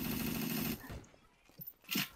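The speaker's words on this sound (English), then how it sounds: "There are like so many people shooting at people." Gunfire in Garry's Mod, a fast burst of shots at first, then scattered quieter distant bangs after a short lull.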